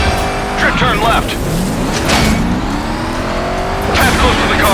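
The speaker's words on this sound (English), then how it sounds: "Drift turn left." A car drifting and skidding in Stuntman Ignition, loud engine revving with rising pitch sweeps and tyre squeal through the turns, close and continuous, while a director's voice calls out stunt cues over the action.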